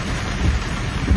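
Heavy rain during a San Antonio thunderstorm that brought flooding, a dense, steady downpour with a low rumbling undertone throughout.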